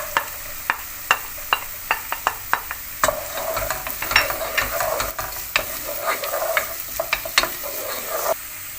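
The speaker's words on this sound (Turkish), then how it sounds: "Güzelce bir şekilde bunları pembeleşinceye kadar kavuracağım" Chopped onions sauté in a pan for a fish soup, a soft continuous sizzle broken by frequent sharp scrapes and clacks of a spoon stirring against the pan, close by and with no one talking.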